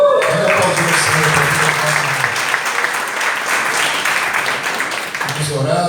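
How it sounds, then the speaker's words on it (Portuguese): Church congregation applauding together in a sustained burst of dense, loud clapping, with a voice speaking over it at the start and end. "Olha aplaudir o Senhor"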